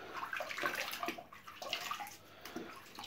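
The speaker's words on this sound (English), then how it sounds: "the mini sponges, rinse them out, although they're probably not bad" Filter sponges from an Oase external aquarium filter being rinsed out in water, with close splashing, sloshing and trickling that comes in irregular bursts over a few seconds, and no talking.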